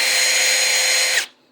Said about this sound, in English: the armature actually fits in the chuck of a drill